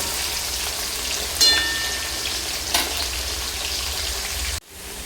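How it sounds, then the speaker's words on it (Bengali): Potatoes frying in hot oil with turmeric, a dense continuous sizzle with a couple of stirring bumps before it cuts off abruptly near the end. "আলুগুলো মোটামুটি আমি সেভেন্টি ভাগ ভেজে নিয়েছি"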